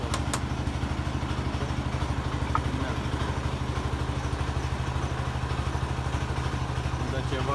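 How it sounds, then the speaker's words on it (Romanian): Generator engine running with a steady, rapid, rhythmic chugging and clatter and a loud exhaust note, constant throughout with no pauses. "Asta este generatorul."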